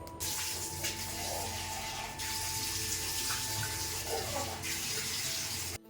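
Tap water runs into a bowl, a steady close rushing splash lasting about six seconds with slight shifts in tone before it cuts off.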